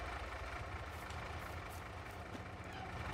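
A truck's engine idles steadily in Farming Simulator 22, a continuous low rumble with a faint airy hiss on top, holding level throughout with no voices.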